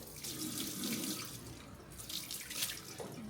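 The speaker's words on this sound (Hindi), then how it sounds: "पानी में डाल के रख दे, गीला हो जाएगा फिर सॉफ्ट हो जाएगा।" Tap water runs steadily into a basin to soak mud- and dung-caked shoes, a continuous near splashing rush that holds for the whole stretch with no talk.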